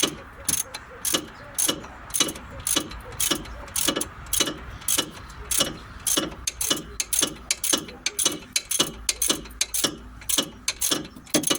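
A torque wrench ratchets rapidly on a cam belt bolt of an Opel Corsa, a steady string of sharp, close clicks in quick repeated bursts with brief pauses between strokes.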